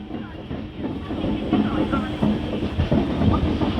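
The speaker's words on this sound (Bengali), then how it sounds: "আমাদের ট্রেন ঢুকছে এখন খড়গপুর জংশন" The Dhauli Express rumbles steadily into Kharagpur Junction with rhythmic wheel clatter and a faint hiss, a continuous loud rolling noise throughout.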